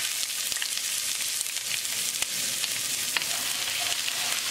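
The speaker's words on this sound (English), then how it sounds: "As the oil start to heat up, we're going to add ginger, garlic, and green chili" Ginger, garlic and green chili sizzle loudly in hot olive oil in a wok, a continuous close crackling hiss with occasional pops and stirring scrapes.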